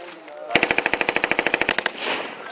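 Machine gun fire at an army live-fire range: a single sustained burst of about fifteen sharp, evenly spaced shots, loud and close, followed by a fading echo.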